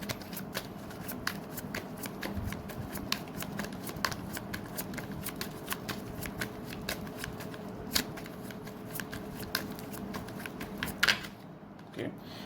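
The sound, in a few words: tarot cards being shuffled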